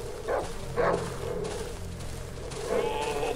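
Dogs in the survival horror game Darkwood give a few sharp barks and yelps, three short bursts spaced over a steady, murky in-game ambience.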